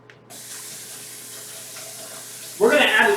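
Water pours into a cooking pot holding a Ziploc bag. A low hum gives way near the end to a loud, close gush of pouring water that lasts about half a second.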